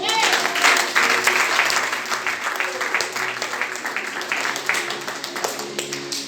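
A church congregation applauds to acclaim Jesus, a sustained wash of clapping with a voice carrying over it throughout.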